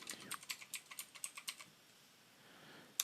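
Fast, clicky typing on a computer keyboard while filling in a tax return form, about a dozen crisp keystrokes in a quick run, then a pause and one final sharp key tap; close and fairly quiet, no voices.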